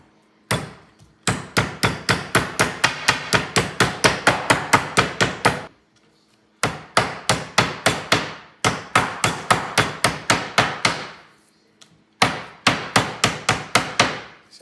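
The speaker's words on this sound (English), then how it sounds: "we're gonna pound them to thin them out. And I'm gonna use my meat tenderizer, hammer" Fast, loud bursts of blows from a meat tenderizer hammer pounding cuts of meat thin on a board, four rapid runs of ten or more even strikes each, separated by short pauses.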